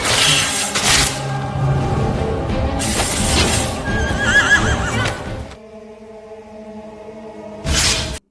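Horses neighing during a mounted duel, loud whinnies with bursts of clattering, shattering and swooshing action sounds, then a quieter stretch before a final burst.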